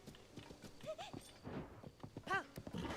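Horse hooves clip-clop in the Zelda: Tears of the Kingdom video game, irregular close steps with a short whinny near the end, under a game soundtrack.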